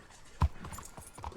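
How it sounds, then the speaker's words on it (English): Horse hooves clip-clop in a video game while the horse is ridden, a light uneven patter of soft thuds with one sharper knock, moderately close over a faint background. "This is how I always ride my horse."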